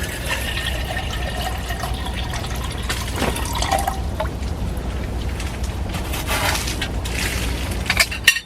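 Water heats toward a boil on a camp stove in a hot tent, giving a continuous hiss and rumble with scattered bubbling and crackling pops, close and fairly loud, with no talking.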